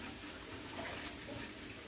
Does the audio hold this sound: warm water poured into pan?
yes